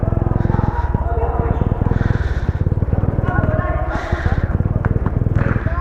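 A motorcycle on the move gives a close, steady throbbing engine putter that runs through the whole stretch, with wind rush and bursts of passing noise.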